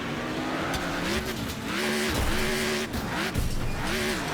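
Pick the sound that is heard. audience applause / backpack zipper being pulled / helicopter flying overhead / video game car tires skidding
video game car tires skidding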